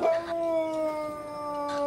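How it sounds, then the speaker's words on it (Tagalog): A dog howls at midday near an apartment unit, one long, drawn-out wavering cry held at a fairly even pitch, moderately close and alone. "Tanghaling tapat umaalulong yung aso."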